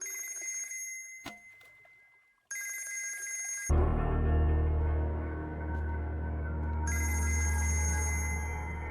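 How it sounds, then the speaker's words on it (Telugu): A telephone rings in a movie scene in repeated bright bursts, first alone, then over a swelling low music score that continues between the rings. "రషీద్ బై ఫోన్ ట్రై చేస్తున్నాడు"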